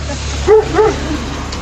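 A dog yips and barks twice in quick succession, short sharp calls close by against a steady low rumble, during a driving vlog with a startled reaction afterward.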